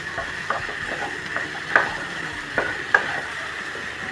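Steady sizzling of mushrooms sautéing in a pan for a mushroom gravy, with occasional soft clicks and scrapes of stirring; no voices.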